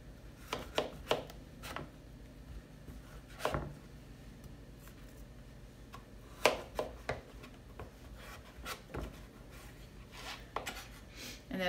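A knife slices a butternut squash into long strips on a cutting board, giving irregular close, crisp cuts and thuds spread across a quiet kitchen background.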